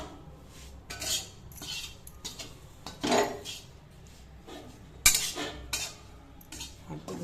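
A spatula stirs and scrapes ragi laddu mixture in a metal pan, producing irregular clattering knocks and scrapes at close range, with quiet gaps between strokes and no talk.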